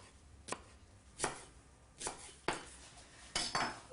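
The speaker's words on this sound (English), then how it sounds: "And spring onion as finely sliced as you can muster." Knife on a board slicing spring onion finely, five or six distinct chopping strikes at uneven intervals, close and fairly quiet, with no talking between them.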